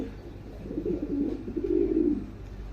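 Pigeons coo in a loft with several females standing nearby, giving low, throaty rumbling calls that swell and fade over a few seconds against a steady background.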